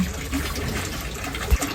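Water from a sink tap pours into a clear plastic bottle in a small Japanese apartment, a close, steady gushing fill with a brief splashy bump near the end.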